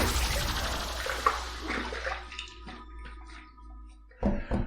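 Water splashes and runs from a tap as a face is wetted at a sink before a safety-razor shave, a broadband wash of splashing that thins out into quieter drips, then a final burst of splashing near the end.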